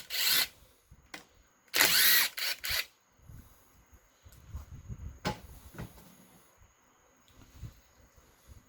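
A power drill spins out bolts from a 4L60e transmission in short loud bursts, followed by clinks and shuffling of parts and tools on a bench.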